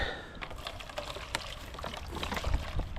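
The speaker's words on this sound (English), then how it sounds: "I'll just fill it up with water again" Water poured from a container into a stray animal's food and water bowl outdoors in freezing weather, a soft, close trickling splash lasting a few seconds with faint handling noises and no talk.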